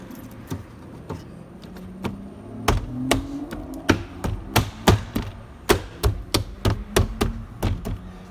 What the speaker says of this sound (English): Clip the door panel back in.